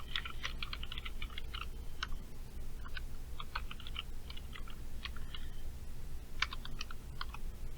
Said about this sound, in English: I'm going to type a simple sentence here